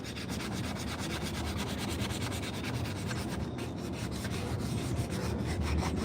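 A hand-carved wooden spoon being sanded by hand, a close, steady rhythmic rubbing and scratching of abrasive on wood that runs continuously without pause.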